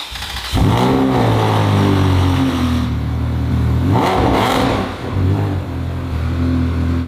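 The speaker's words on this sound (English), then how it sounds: "We're officially going to start the car for the first time now with our new exhaust system" Ferrari 360 Spider with a newly fitted exhaust system cranks and fires up, then settles into a loud, deep idle with a couple of swelling revs; the engine runs alone without talk.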